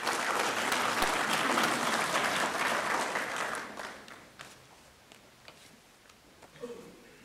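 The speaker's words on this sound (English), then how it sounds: "let's raise our hands and please applaud Professor Makinde" An audience at a professorial inaugural lecture claps loudly and steadily for Professor Makinde for about four seconds, then the applause thins to scattered claps and fades.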